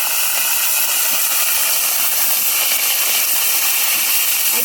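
Fresh organic greens, note shaak, with drumsticks and beans, hit a hot pan and sizzle in a loud, continuous hiss that holds steady throughout, with no voices.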